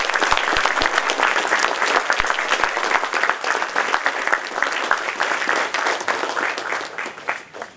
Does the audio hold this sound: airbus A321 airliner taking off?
no